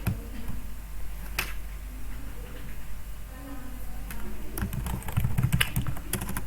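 Fingers type text on a computer keyboard during Photoshop work, a near stream of light key clicks that pauses and then picks up with a quicker burst, no talking.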